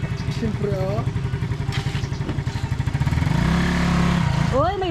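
Yamaha Mio Sporty motor scooter engine running nearby with a rapid putter that rises into a steadier drone, while people talk over it.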